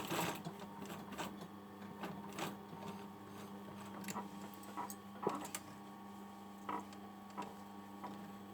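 A sewing machine topstitching along the edge of a hoodie pocket, a faint steady mechanical whirr with a low hum and short bursts of stitching, heard alone.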